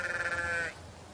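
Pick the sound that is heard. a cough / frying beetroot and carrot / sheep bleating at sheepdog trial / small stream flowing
sheep bleating at sheepdog trial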